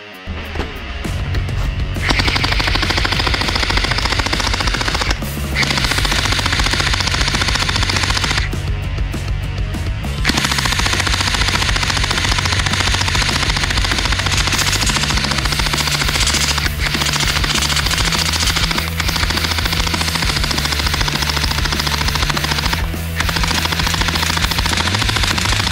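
A toy machine gun fires in loud, continuous rapid bursts, a mechanical rattling stream that runs almost without pause, with only short breaks between volleys.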